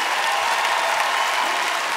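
A comedy show audience at the League of Laughter Winter Cup 2016 applauds in a dense, steady roar of clapping that fills the room for the whole stretch, with no voices on top.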